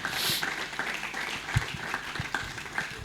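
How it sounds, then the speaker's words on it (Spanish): A church congregation applauds during a Spanish-language sermon, a moderate wash of clapping with scattered sharper individual claps standing out, fairly even in level throughout. "Dale un fuerte aplauso"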